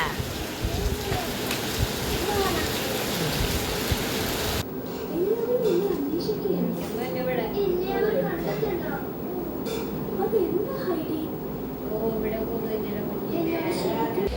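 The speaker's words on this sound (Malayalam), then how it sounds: "മഴ കാണണ" Steady rain hisses loudly for a few seconds, then fades as voices take over with fainter patter beneath.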